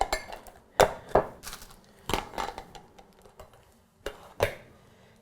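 Ceramic ramekin storage lids from a Temp-tations Floral Lace bakeware set clink and clatter as they are handled, with several sharp, close knocks spaced irregularly between quiet moments.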